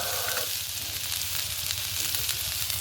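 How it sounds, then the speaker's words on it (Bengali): Chopped onion sizzles steadily in hot oil, a dense continuous frying hiss that stays loud and even throughout with no voices over it. "এবার ওই তেলের মধ্যে দেব পেঁয়াজ কুচি।"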